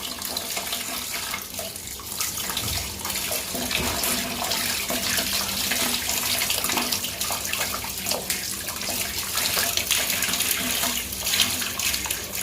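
Water runs steadily from a household tap over a garment being rinsed, a continuous close rushing stream without speech.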